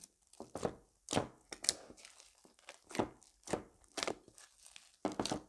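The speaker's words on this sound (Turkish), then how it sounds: "Şimdi arkadaşlar karıştırmaya başlıyorum." Slime made from make-up products being stirred in a bowl, a run of wet, squelchy and crinkly strokes arriving in an irregular rhythm of roughly a dozen bursts, close and fairly quiet with no talking.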